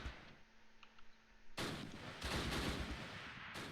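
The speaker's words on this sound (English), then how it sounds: "That MG fire is also a problem." Machine gun fire in the WWII strategy game Close Combat Last Stand Arnhem, a dense, loud broadband burst of rapid shots that starts abruptly and keeps rattling steadily, with no talking over it.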